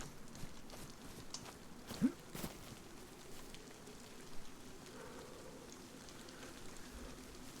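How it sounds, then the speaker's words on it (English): Soft, steady rainfall in the video game DayZ patters quietly throughout, with a couple of faint thuds standing out against the hiss. "The rain."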